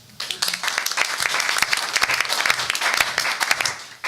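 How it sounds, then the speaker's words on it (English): Audience applause at a school board meeting, starting abruptly and holding as a loud, dense wash of many hands clapping with crisp individual claps throughout before fading near the end. "That was the easiest applause I've gotten all year."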